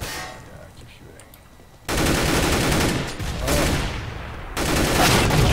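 Sustained, loud automatic rifle fire in the video game Counter-Strike, with continuous rapid bursts filling most of the clip after a quieter opening stretch.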